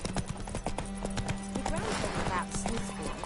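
Hooves clip-clop rapidly as Roach, the horse in Witcher 3, gallops along, with a whinny partway through and a voice speaking over the steady hoofbeats.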